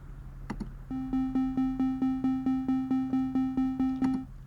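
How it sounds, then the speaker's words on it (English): Synthesizer playing a melody in a triangle wave shape: about fourteen evenly spaced notes at a steady pulse, each with a soft decaying tail, clean and alone after a couple of faint clicks. "So that's the sound of the triangle wave shape."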